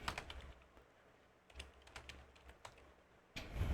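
Light clicking of keys on a computer keyboard while a route table is being created, with short bursts and irregular taps, close and fairly quiet.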